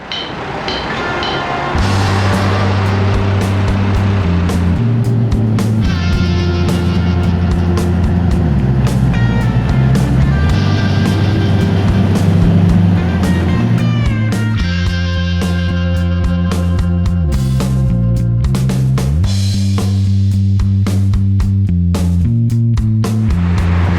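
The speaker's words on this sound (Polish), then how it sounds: "w szczycie autobusy na odcinku przebiegającym przez centrum podjeżdżają na przystanki praktycznie co" City buses drive through busy Budapest traffic, engines droning and shifting pitch as they pull away and slow, a loud steady rumble with clicks and rattles, no voices.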